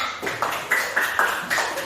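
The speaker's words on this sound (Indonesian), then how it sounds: "tepuk tangan untuk kelompok A" Classroom group of students clapping for a group's work, a handful of hands beating in loose, uneven claps with some rhythmic accents, close and fairly loud in a small room.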